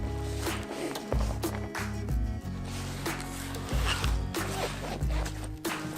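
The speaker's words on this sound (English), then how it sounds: "Zip it up" A zipper being pulled closed along the fabric cover of a Wild Ass air cushion for a bicycle saddle, heard as several close, rasping zip strokes in quick succession with brief pauses between them.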